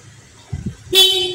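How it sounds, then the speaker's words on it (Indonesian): After a couple of faint low thumps, a Yamaha Aerox scooter's horn sounds one short, bright, steady beep close to the listener. "Klakson."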